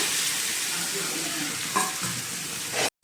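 Boiled potatoes tossed into hot oil with garlic and chili powder sizzle steadily while a spoon stirs and scrapes through them, close and continuous, with a brief clatter near the end before the sound cuts off.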